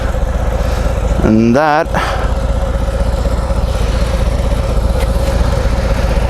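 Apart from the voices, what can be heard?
Harley-Davidson FXDR 114 motorcycle idling, Screaming Eagle exhaust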